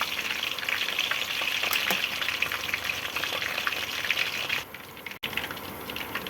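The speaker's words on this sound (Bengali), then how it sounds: "পকোড়াগুলো ভাজা হয়ে গেছে।" Oil sizzles and crackles steadily as soybean pakoras fry in a pan, a dense hiss with a brief stir or clatter near the end.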